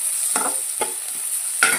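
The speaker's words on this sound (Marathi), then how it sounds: "जरा लसूण परतून घेऊया" Garlic sautés in a pan for a cabbage bhaji, a steady bright sizzle running throughout, broken by three or four short scraping stirs.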